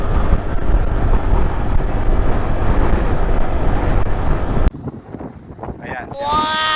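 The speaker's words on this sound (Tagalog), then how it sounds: "Ang lakas ng hangin mga kawaray." Strong wind buffets the microphone at San Juanico Bridge between Leyte and Samar, loud and continuous. It cuts off abruptly and gives way to quieter outdoor ambience with a voice near the end.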